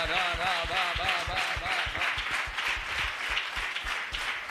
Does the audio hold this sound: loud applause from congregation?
yes